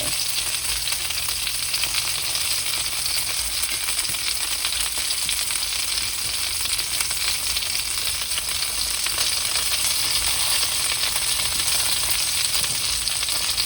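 Chicken tenders frying in a pan of hot oil, a dense, loud, continuous crackling sizzle that holds steady and close throughout with no voices.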